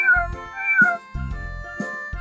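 A toy robot dog imitates a cat: several short meows in quick succession, clear and close, with brief gaps between each call.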